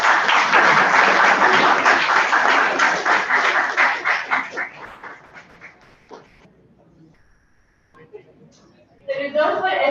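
Audience at a National Education Day event clapping for a moderator: loud hall applause that thins into scattered claps and fades, followed by a pause and then a voice speaking.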